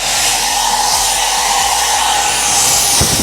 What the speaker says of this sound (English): I really like this blow dryer. It's one of the best blow dryers I've had.